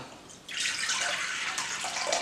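Water poured from a 2-litre bottle into a container while making lemonade, a steady, fairly loud splashing rush that starts abruptly and continues unbroken to the end.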